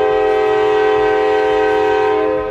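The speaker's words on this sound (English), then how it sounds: "That's the Blue Ridge train." A Blue Ridge scenic train in a small mountain town sounds its horn, one loud, sustained, steady blast held close by for a couple of seconds before it starts to fade.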